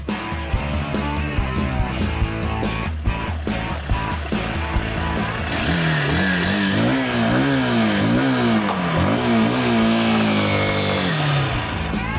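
A Honda Bros 160 motorcycle revs while being ridden on the road and in city traffic, its mid-pitched engine note rising and falling in repeated swells, loud and close throughout, with choppier bursts early on.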